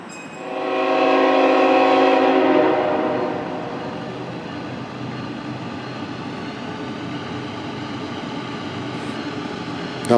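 A CSX freight train sounds a long, loud horn blast for about two seconds as it nears, then rolls past with a steady, rumbling wheel noise that continues close by to the end.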